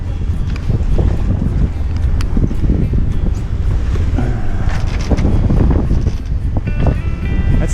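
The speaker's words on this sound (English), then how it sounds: "And now the jib is luffing." Strong wind buffets the microphone aboard a sailboat on passage as the jib luffs during a wind shift, with loud low rumbling gusts and intermittent flapping and rattling bursts over constant rushing air.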